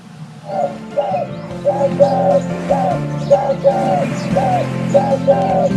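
A dove (fakhta) cooing in a slow, steady series of about ten soft, rounded coos, each phrase evenly spaced, heard alone over a low continuous background hum.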